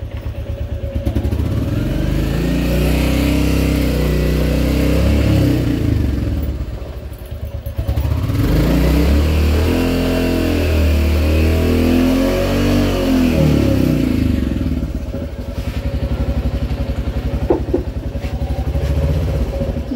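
A mud-covered motorcycle engine runs nearby at a loud, steady idle, with throttle blips and rising revs in the middle and a brief dip between them.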